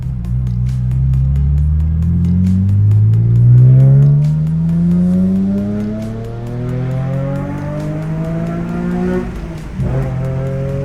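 Nissan 370Z pulls hard through the gears, its engine note climbing steadily in pitch, dropping at each shift and rising again, loud and up close from inside the car.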